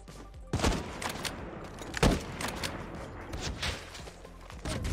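Rapid gunfire in a sniper video game, sharp shot cracks fired in quick irregular bursts with dense clattering between, loud and close, with no voices.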